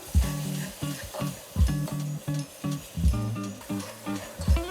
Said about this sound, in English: gradually start to add some milk in now